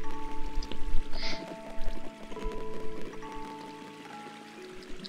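Flowing water in the Minecraft game, heard while exploring a castle full of lava and water: a steady, moderately loud trickling and pouring wash with scattered droplet-like splashes, fading slightly toward the end, with no talking.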